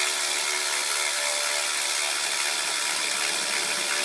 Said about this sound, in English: Watch the spring get compressed.